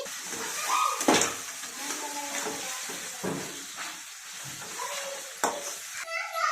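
Chicken curry sizzling in a pan while being stirred, with a steady frying hiss and repeated scrapes of the spoon against the pan, close and clear with no talking.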